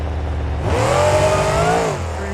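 The engine of a Ford F-150 monster truck called Grinder revs up in the racing game BeamNG at a Monster Jam event in Tampa, a loud close rising whine that holds high before dropping back to idle.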